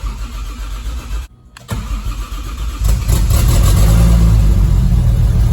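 A built Toyota 2JZ VVTi engine swapped into a Nissan 300ZX Z32 and running E85 cranks for about a second, catches, and settles into a loud, steady idle close by.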